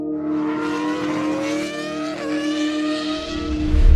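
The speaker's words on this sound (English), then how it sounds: "A 4-rotor doesn't sound like a car. It sounds like an F1 car from the 90s." A four-rotor rotary engine revs loudly and steadily close by, with a high-pitched, smooth buzzing, race-car-like whine that climbs slightly in pitch.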